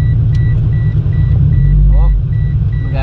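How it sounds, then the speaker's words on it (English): Car interior on a test drive in a GT86/BRZ/FRS with new carbon fiber wheels: a loud low engine drone and road rumble, with repeated steady electronic beeps chiming at a regular rhythm and a brief voice near the end. "We're in the car now, we're gonna give it a test drive."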